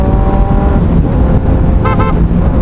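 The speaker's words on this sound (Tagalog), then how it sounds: "Ay, may busina na rin pala tayo" A short horn beep sounds twice from a Kawasaki Ninja 1000SX motorcycle over its loud, rumbling engine and roaring road noise.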